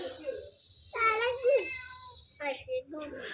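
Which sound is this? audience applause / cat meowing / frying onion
cat meowing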